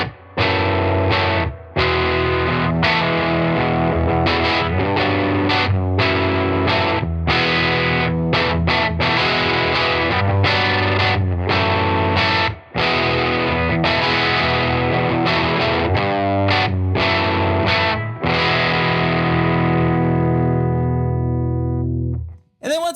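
Electric guitar with vintage PAF-style pickups played through a Pickup Booster Mini pedal for a boosted, resonant-peak tone: loud, sustained distorted chords and picked notes ringing continuously, close and alone, fading out at the end.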